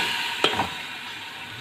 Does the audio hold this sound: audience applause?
no